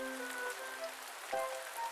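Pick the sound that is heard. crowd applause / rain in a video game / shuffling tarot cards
rain in a video game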